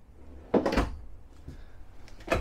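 Vanity drawers in the bathroom of a 2022 Reflection 150 Series 260RD RV slide open and shut, giving a couple of close wooden thuds and rattles early on and another one at the end, with no talking.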